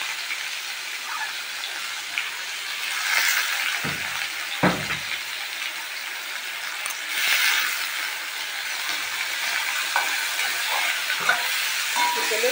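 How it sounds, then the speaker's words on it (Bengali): Chopped onion dropped into hot oil with already-fried chopped garlic makes a loud, steady frying hiss. Two or three soft low thumps break in near the middle, and no one speaks. "এবার পেঁয়াজটা দিয়ে দিব।"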